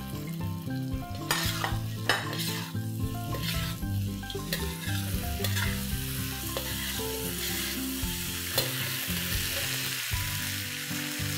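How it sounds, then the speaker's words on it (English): Idlis tossed in a vinegar and soy sauce mixture in a hot pan, a continuous loud sizzle with repeated clattering tosses and stirring scrapes, no talk. "now let's toss our idlis in this"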